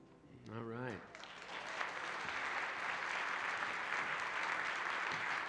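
Sustained applause from an audience inside a church, steady and fairly loud for several seconds, with a brief sung or spoken voice at the very start.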